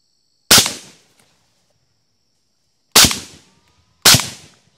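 Three loud, sharp rifle shots ring out at hogs in a crop field in broad daylight: one shot, then a pause of a couple of seconds, then two more shots close together. Each crack fades fast into near silence.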